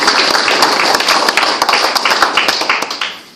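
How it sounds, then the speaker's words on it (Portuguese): An audience claps at a gathering. The applause is dense and lively, made of many sharp overlapping claps, and fades toward the end with no talking over it. "Para eles, eu peço também uma salva de palmas que lhe merecem."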